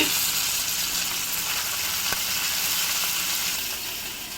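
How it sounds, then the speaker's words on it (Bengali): Fish sizzles in a pan, a dense, loud, continuous frying hiss that holds steady throughout and eases slightly toward the end. "এখানে মাছ ভাজতেছো?"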